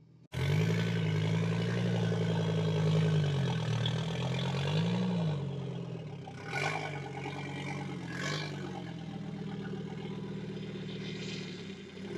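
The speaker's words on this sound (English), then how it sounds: "Nick's just moving his car into the driveway" An Audi Avant engine runs close and steady while the car is moved into a driveway, with a few short revs and clatter partway through and no speech.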